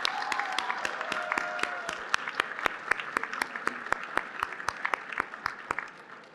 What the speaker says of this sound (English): Let's give a big round of applause for our top national corporate team